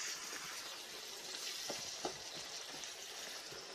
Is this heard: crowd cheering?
no